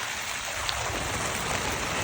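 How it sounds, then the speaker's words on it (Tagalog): Steady rain hissing across the whole clip during outdoor cooking in strong wind, a dense broadband wash of drops falling on surfaces, fairly close and even in loudness. "Naulan na eh."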